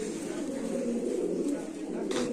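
A female racer pigeon coos softly in a low, continuous, rolling murmur, fairly close, with faint background noise and a brief flutter near the end.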